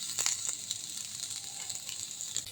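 Onion going into a pan after toasting coconut, giving a fairly soft, crackly sizzle with small popping ticks throughout.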